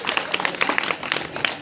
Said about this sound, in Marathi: तिच्या मम्मीसाठी एकदा टाळ्या वाजवा